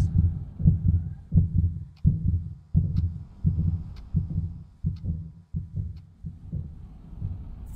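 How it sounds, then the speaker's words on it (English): A heartbeat in the Five Nights at Freddy's video game thumps steadily and close up, about eleven low, muffled beats. The beats repeat evenly and soften slightly toward the end, with nothing else heard. "Why is my heart beating so fast?"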